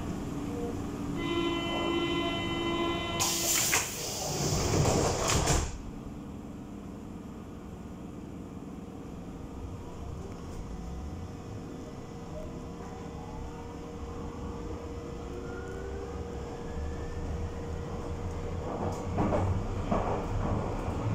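Berlin U-Bahn F84 train departing on the U7 line, heard from inside: a brief chime and door-closing bursts, then a steady low rumble with rising whine as the train accelerates, continuous and moderately loud.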